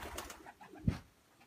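A single short coo from a male racing pigeon, a prized breeding cock being paired in a rural loft, comes through faintly at close range over quiet background noise.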